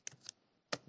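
A few sharp keystrokes on a computer keyboard while entering a pandas drop command in Python, two quick clicks then a pause and another pair of taps, close and fairly faint, with no talk.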